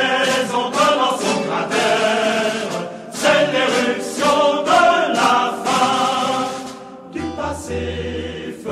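A choir sings L'Internationale, a stirring anthem-like melody with full harmonies in strong, steady phrases, shifting abruptly to a different sound near the end.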